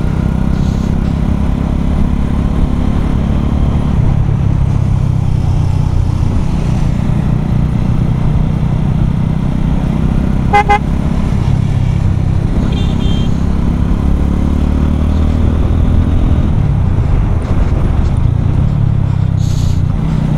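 GPX motorcycles ride along a road, a constant loud engine drone mixed with steady wind and road rumble throughout, with no clear voices above the noise.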